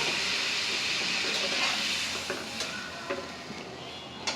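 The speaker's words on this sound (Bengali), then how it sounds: "মশলাটা 3 মিনিটের মতো কষিয়ে নিব" Spice paste with turmeric and chili powder stir-fries in a pan, a steady close sizzle and hiss punctuated by several distinct spatula scrapes and taps toward the end.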